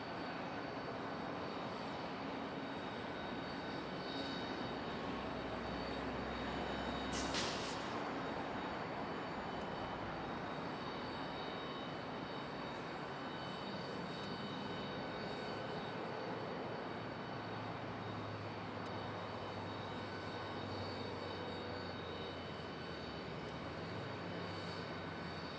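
Spirit Airlines airplane engines at Charlotte airport, a continuous distant roar and broadband jet rush steady throughout, heard from outdoors at a spotting position.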